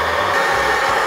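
Steady, loud broadband roar of an MSR Dragonfly liquid-fuel camp stove burner running at full output while boiling water, a continuous hissing blast with no talk.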